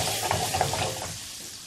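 Boiled eggs frying in hot oil over a hotter flame give a steady, loud sizzle with a couple of faint clinks, fading slightly toward the end.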